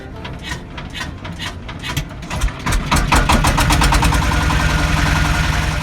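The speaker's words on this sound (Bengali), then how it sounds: "আমাদেরকে নিয়ে ট্রলার চলতে শুরু করলো" A trawler boat engine on the lake at Rangamati chugs up from a loose idle into a fast, loud, steady knocking beat that runs on close by.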